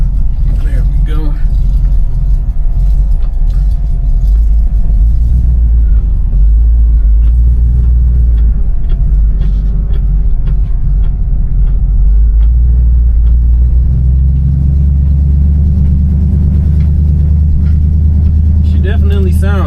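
A deep, steady 348 V8 engine rumble from a 1960 Chevrolet Impala idles throughout, loud and close, with a person talking over it.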